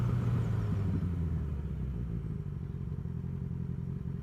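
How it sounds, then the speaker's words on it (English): A motorcycle engine heard from the rider's position while riding on a road, a close, steady low rumble with some clatter that eases slightly in loudness over a few seconds, with no speech. "downwards I'm doing a thing called blip shifting, and I have a video on that itself, which is basically rev matching"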